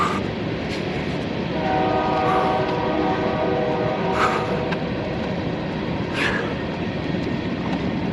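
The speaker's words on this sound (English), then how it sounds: "Train!" A train passes along railroad tracks in rural Kansas, a loud steady rumble of wheels on rails filling the clip, with a sustained tonal horn-like whine and a few sharper clanks; no talking.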